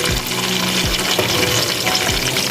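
Chopped onions hit hot oil with toasted cumin seeds and black cardamom for a Lahori mutton and cauliflower curry, setting off a loud, continuous sizzling hiss punctuated by a few low thumps.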